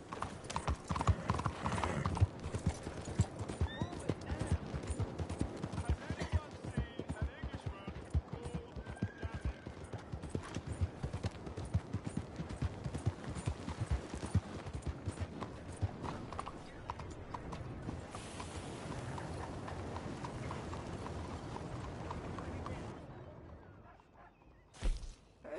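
Horse hooves clip-clop steadily and densely through a Red Dead Redemption 2 game scene, with an occasional neigh, and the trotting fades out near the end.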